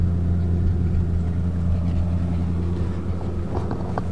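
A 1968 Ford Galaxie fitted with Mustang wheels, driving along with a steady low engine rumble close up, holding a fairly even drone with slight shifts in tone.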